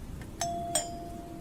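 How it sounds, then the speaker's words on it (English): A doorbell rings twice indoors, two bright chime tones close together followed by a lingering ring, heard alone against a quiet background at night. "The doorbell."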